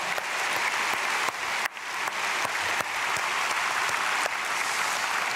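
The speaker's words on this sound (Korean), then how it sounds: "박수하겠습니다." A church congregation at an early-morning prayer service at Myungsung Church claps together in a full, sustained burst that holds steady from start to finish.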